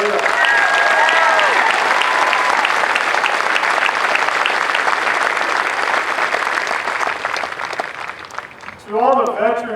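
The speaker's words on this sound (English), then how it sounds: "just a round of applause for the family and friends that are here" A crowd at an Air Force Basic Military Training ceremony applauds family and friends, sustained loud clapping that thins near the end as a voice begins speaking over it.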